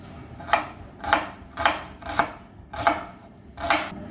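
Onions chopped finely with a knife on a board, about seven crisp, evenly spaced chops landing roughly every half second, close and clear.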